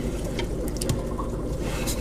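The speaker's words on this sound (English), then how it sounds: "it's sucking water. I can hear it filling it." A Fluval 204 canister filter filling with aquarium water by siphon, giving a steady close rushing, gurgling flow with a few small drips and bubbles, no talking.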